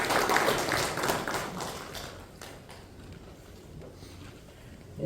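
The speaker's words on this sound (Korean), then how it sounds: "하나님께 영광의 박수 올립니다" Clapping from a congregation at a church prayer meeting, loud at first, then thinning to scattered claps and dying away after a couple of seconds, with a low background murmur remaining.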